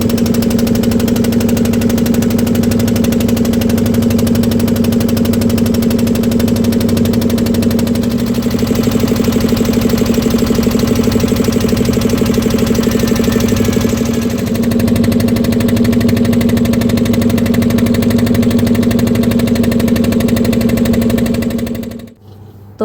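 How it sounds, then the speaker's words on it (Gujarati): A boat engine drones loudly and steadily on the Narmada river near Kabirvad, a constant low hum with a rattling buzz that runs without break until it cuts off at the very end. "બોટના ઓરિજિનલ અવાજ સાથે મસ્ત મજાનો નજારો"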